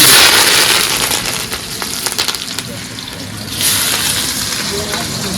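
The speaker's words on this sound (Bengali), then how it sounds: "তেল কিন্তু গরম হয়ে গেছে আর পেঁয়াজ" Sliced onions crackle and hiss in hot oil for chicken biryani, a dense, loud frying noise with bursts of stirring and spattering near the pan.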